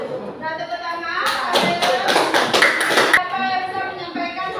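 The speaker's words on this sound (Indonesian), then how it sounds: "tepuk tangan" A short burst of hand clapping from a small group, lasting about two seconds amid a busy classroom with voices around it.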